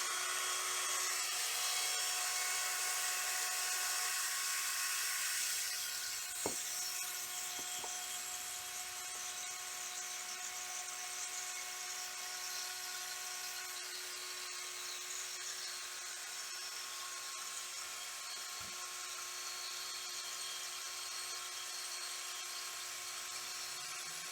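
A high-pitched electric drill twisting cord whirs continuously, loud at first and then settling into a steadier, slightly quieter whine with a couple of brief clicks.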